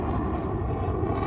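A Eurofighter Typhoon jet pulling up during an air show display, a loud, dense engine roar that holds steady throughout the short moment.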